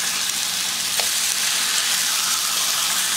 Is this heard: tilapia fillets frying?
yes